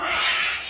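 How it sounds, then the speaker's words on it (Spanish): A cat yowls in a sustained, harsh caterwaul, loud and close, part of a string of aggressive cat fights. "Bueno, recopilación de gatos violentos."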